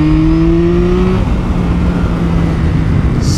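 A Yamaha MT-09 motorcycle engine drones loudly on the road, holding a steady revving tone that climbs slightly before dropping into a rough, continuous rumble.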